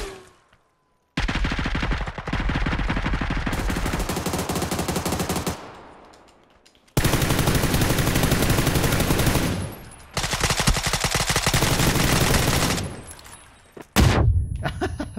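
Bursts of rapid automatic gunfire rattle in long sustained volleys, separated by short gaps of silence, loud and close, with a final sharp blast near the end.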